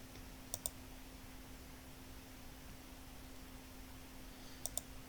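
A computer mouse clicks twice in quick succession, then again about four seconds later, while deleting a row in an Excel workbook; the clicks are crisp and close over a faint steady hum, with no talking.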